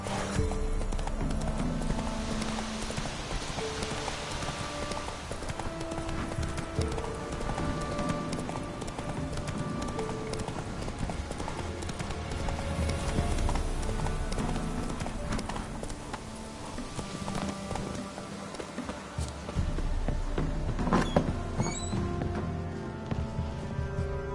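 Geralt's horse Roach trotting in the video game The Witcher 3: Wild Hunt, a steady rhythmic clip-clop of hooves running continuously under game music and ambience.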